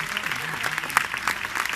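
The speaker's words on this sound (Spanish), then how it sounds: "Un aplauso a Lola, qué guapa" Audience members clap briefly at an exotic bird show, a short burst of scattered hand claps that are fairly close and moderately loud, with a few sharper individual claps standing out.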